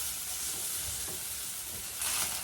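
Drumstick flowers frying in a pan over a medium flame as they are turned, with a steady close sizzle and light stirring scrapes that swell briefly near the end.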